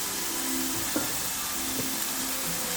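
Onion and garlic sizzle steadily in a hot frying pan, a constant bright crackling hiss with a couple of soft knocks from stirring.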